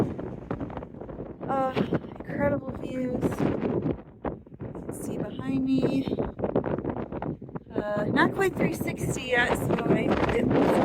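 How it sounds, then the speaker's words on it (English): Strong wind buffets the microphone near the summit of Baldpate East Peak on a mountain trail, a steady rushing roar under someone talking throughout. "It's really windy."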